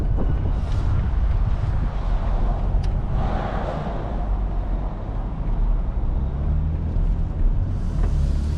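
A 2025 BMW M4 Competition xDrive drives on the road, heard from inside as a steady low engine and road rumble with tyre and wind noise, fairly loud and continuous.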